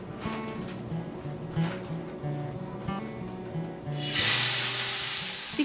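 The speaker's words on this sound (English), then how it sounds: "we are going to start off with a hot pan. Put about a tablespoon of oil." About a tablespoon of oil hitting a hot pan, a steady hiss that swells into a louder, brighter sizzle toward the end, heard alone without talking.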